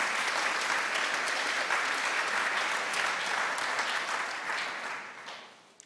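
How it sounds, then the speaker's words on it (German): Audience applause at a literary reading event, steady, dense clapping from a crowd that holds evenly and fades toward the end. "Applaus"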